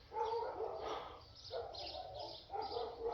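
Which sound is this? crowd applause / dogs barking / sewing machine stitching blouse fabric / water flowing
dogs barking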